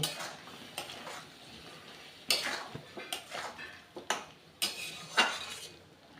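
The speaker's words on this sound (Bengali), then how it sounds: "স্বাদ মতো লবণ আর কাশ্মীরি লঙ্কার গুঁড়ো এবার আমি খুব ভালো করে কষিয়ে নেব" Salt and Kashmiri chili powder with spices being stirred and fried in a pan for a cauliflower and potato curry: a spoon scrapes and clinks against the metal pan in irregular strokes over a faint sizzle, close by, with no talking.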